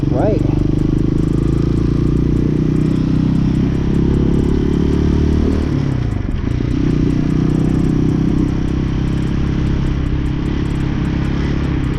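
A Hawk 250cc motorcycle ridden past road construction, its engine droning loud and steady with a brief drop in revs midway, under heavy wind noise.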